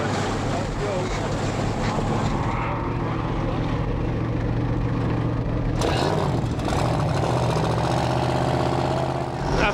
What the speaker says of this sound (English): After rebuilding the engine, he burst straight to life.